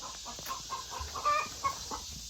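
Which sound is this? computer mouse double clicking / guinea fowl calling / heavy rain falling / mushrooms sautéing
guinea fowl calling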